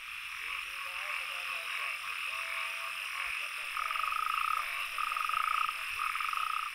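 Natterjack toads call in loud, rolling trills that come in repeated bursts over a softer background chorus of croaking.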